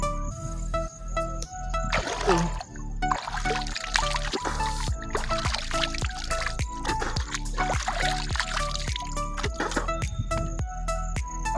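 Splashing and dribbling of pond water scooped by hand to wash a face, in short repeated bursts over a steady background hum outdoors at a village pond.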